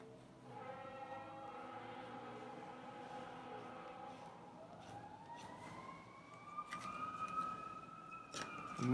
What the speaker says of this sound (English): Ooh, the fire engines are out today.